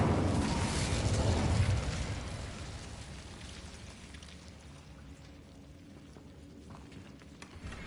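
The Incendio fire spell in Hogwarts Legacy bursts out as a loud whooshing rush of flame that gradually fades into a quieter crackling hiss.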